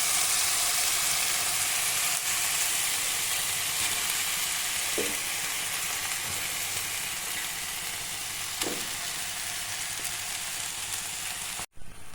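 Soaked broken wheat sizzling and crackling in a hot frying pan for broken wheat upma, a steady loud hiss with a few soft stirring knocks, no voices.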